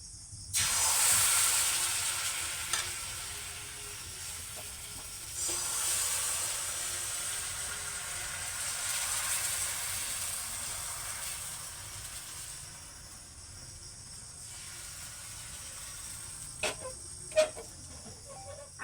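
Ladle of batter poured into a wok of hot white oil, sizzling in a steady broadband hiss close by that swells and eases, with a few soft clicks near the end; no talking.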